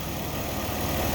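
A Ford Escape engine idling with the EGR valve opened, a steady, fairly quiet low hum and rumble with no pauses.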